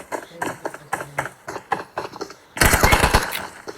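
Gunfire in the mobile battle royale game PUBG Mobile: a string of separate sharp shots snaps at a steady rhythm, then a dense, loud burst of rapid automatic fire follows at close range.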